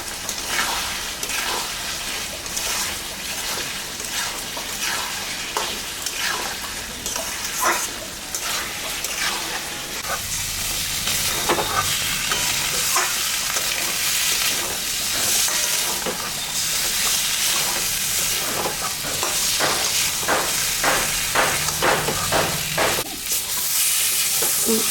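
A small mixed-fish curry sizzles and fries steadily in a pan while being stirred, a loud continuous hiss with scraping stir strokes running through it and no talk.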